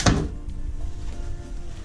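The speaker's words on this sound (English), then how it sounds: "A little drawer" A small drawer in a Norwegian Gem cruise ship cabin opens or shuts with one sharp close knock at the start, then a faint hollow rattle fading into quiet room tone.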